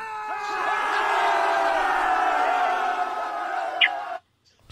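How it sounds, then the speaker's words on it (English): A crowd lets out sustained battle cries and whoops, a dense, loud wall of shouting voices that holds steady for about four seconds before cutting off abruptly. "We have battle cries."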